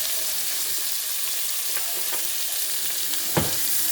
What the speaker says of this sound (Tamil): இது நல்லா சாட் பண்ணிவிடுங்க.